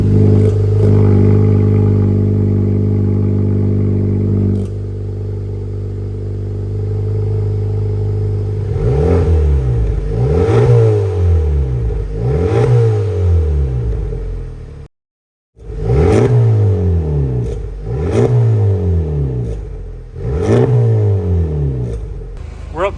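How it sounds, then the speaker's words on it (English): A Honda Civic FL5 Type R with a Mugen titanium exhaust idles with a deep drone, then revs repeatedly in quick rising-and-falling blips, loud and close, with a brief silent gap midway before more revs. "I'll get George to give it some RPMs."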